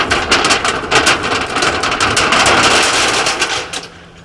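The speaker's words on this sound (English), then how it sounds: "That is the sound of that roof unfolding right there." Metal fire station roof tearing and peeling off in a storm, a loud, harsh, noisy roar of wind and rattling metal with repeated crashing bursts, sustained for several seconds before easing off.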